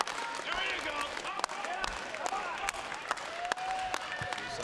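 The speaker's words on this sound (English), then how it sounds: "Crowd getting a rally going." A wrestling crowd at an indoor show cheers and claps steadily in sharp scattered claps, rallying behind a wrestler, with voices shouting through the noise.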